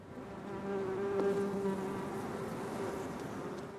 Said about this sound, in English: a healthy bee is a bee that makes honey